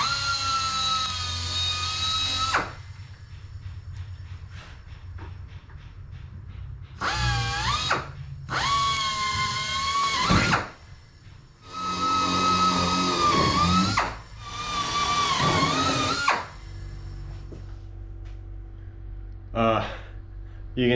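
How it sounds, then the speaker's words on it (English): A handheld power drill whirs in several bursts as it bores holes in an aluminum bulkhead for a Van's RV-7A kit airplane in a home garage, revving up and down with short pauses between holes and a quick final burst. "I'm gonna start putting holes where I really wish I had a cleco."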